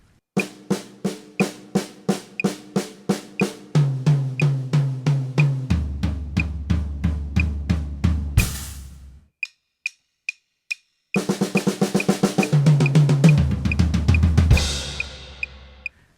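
A drum triplet fill pattern of steady, evenly spaced hits with a bright metronome click ticking underneath. The drums stop briefly while the clicks continue alone, then the drumming resumes.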